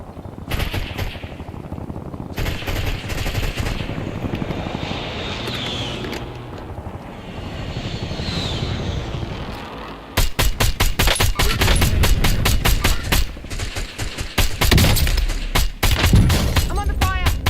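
Heavy gunfire in a battle-royale video game: a dense run of rapid, loud shots fills the second half, after quieter crackling action, with players talking over it.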